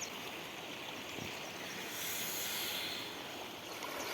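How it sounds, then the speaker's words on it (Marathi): A village stream swollen overnight by the first heavy monsoon rain flows near a bridge, a faint, even rushing wash that holds steady throughout with no voices. "हा ओहोळ मित्रांनो एका रात्री वाहायला लागलेला आहे"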